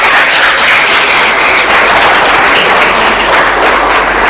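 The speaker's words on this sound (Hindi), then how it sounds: "हर बात पर तुम्हें ताली बजानी है" An audience claps at a youth motivational session in Saharanpur, producing loud, dense, sustained applause that continues steadily throughout without any voices.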